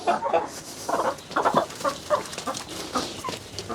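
Backyard hens at a Kerala family home clucking in short, repeated bursts, several soft calls spaced irregularly at moderate distance, with quiet gaps between.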